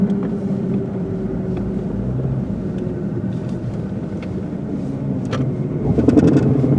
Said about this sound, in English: Oh, that's a bad U-joint.